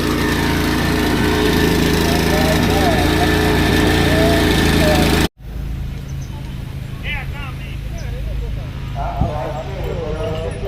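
A loud engine drones steadily at a cattle market in Warin Chamrap, Ubon Ratchathani, then cuts off abruptly and drops to a quieter running rumble with distant voices and other sounds.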